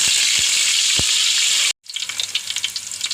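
Steady bright sizzle of garlic and shallots frying in hot oil, briefly cutting out, then resuming with crackling pops, close and loud.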